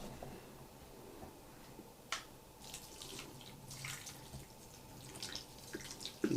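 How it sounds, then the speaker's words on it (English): Broth is poured over layered rice in a chicken and rice casserole, a quiet, steady liquid trickle with faint drips and small kitchen clatter nearby. "Now we're going to put us some broth."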